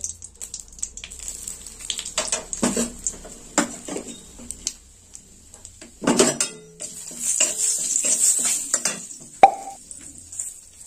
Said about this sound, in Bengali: এবার আমি গরম মশলাটা দিয়ে দেবো।